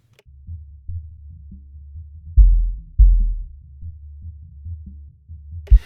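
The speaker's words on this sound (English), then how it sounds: "you're still hearing mostly kick drum down there. There's maybe a little bit of that low tom coming through" Low end of a drum kit recording, dominated by deep kick drum thumps in a steady pattern with a faint low tom bleeding through, two heavier hits standing out midway.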